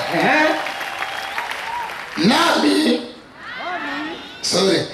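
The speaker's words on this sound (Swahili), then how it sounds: "Piga Yesu makofi" A church congregation claps during a Sunday service, bursts of applause rising and falling in several waves while a preacher's voice carries over and between them.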